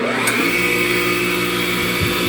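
A bench buffer fitted with a wire wheel runs close and loud with a steady high whine and a harsh brushing hiss, continuous throughout without pause.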